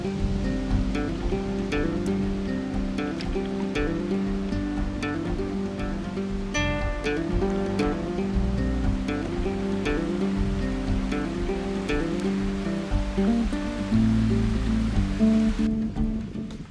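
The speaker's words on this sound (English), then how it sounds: "You can hear the water going down it." A river rushes steadily down at a canoe portage point, a continuous loud wash of turbulent water heard up close with no pauses.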